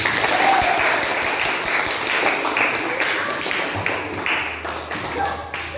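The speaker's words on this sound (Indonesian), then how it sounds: "berikan aplaus untuk Fatur" Classroom audience applauding a student after a lesson, a sustained burst of dense clapping from a group, fairly loud and close, tapering slightly toward the end.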